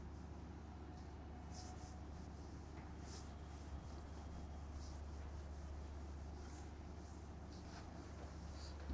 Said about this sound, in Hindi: चलिए, अब मैं क्वेश्चन भी रब कर रहा हूँ ताकि हमें उतना स्पेस और मिल जाएगा।